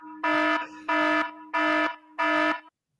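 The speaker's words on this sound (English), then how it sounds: "I'm about to play something quite loud. It's an alarm klaxon." Alarm klaxon played over radio, four loud buzzing blasts of equal length in a steady on-off rhythm with short gaps, close and alone, ending abruptly.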